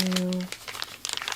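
A baby wipe is pulled from a soft plastic packet at an ASMR drawing desk, giving a close series of crinkly rustles and soft tearing just after a quiet spoken word.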